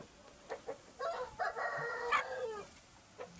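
Rooster crowing nearby, a single drawn-out call with clucks and faint calls from other chickens around it, fairly quiet overall.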